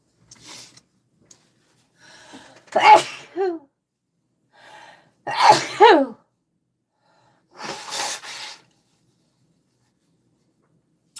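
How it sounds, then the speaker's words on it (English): A nearby person sneezes, with a sharp burst and then a couple more explosive sneezes spaced a few seconds apart, separated by soft breaths in a quiet room. "I'm going to sneeze"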